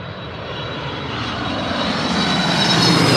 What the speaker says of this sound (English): It's definitely a 767, so this is going to be a loud one.